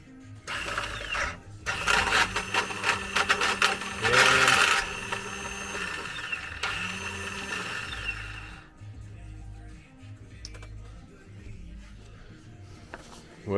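Bennche Cowboy UTV engine cranking over with a compression gauge fitted to the second cylinder, a rhythmic chugging and whirring starter sound in repeated bursts, close and fairly loud, stopping and starting a few times.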